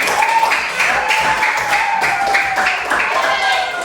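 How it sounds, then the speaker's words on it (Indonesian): Elementary school class applauds during a lesson, a scattering of quick hand claps in loose rhythm at moderate volume, with a faint voice running underneath. "Kasih tepuk tangan"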